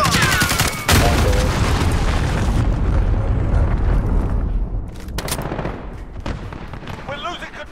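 A cruise missile explosion in Call of Duty in St Petrograd: a heavy, loud boom with a sharp onset that rumbles and slowly decays, mixed with scattered gunfire and game noise.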